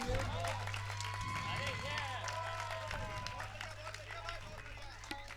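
An audience at an evening devotional gathering of prayer and songs claps for the musicians, a faint, continuous patter over a low electrical hum, with voices murmuring.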